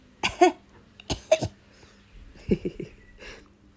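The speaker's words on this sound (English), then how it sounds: "Oh, I need to cough." Several sharp coughs, close up: a pair of bursts, then another pair, then a rapid cluster of three short hacks.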